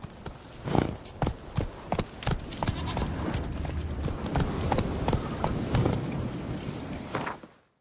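Roach, a horse in The Witcher 3, gallops in a quick, even clip-clop of hooves close by, backed by a steady rumble of movement that cuts off abruptly at the end.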